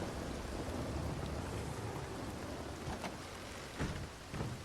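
Steady, dense rain pours in the Blackwater area of a video game, with low rumbles of thunder rolling beneath the constant hiss.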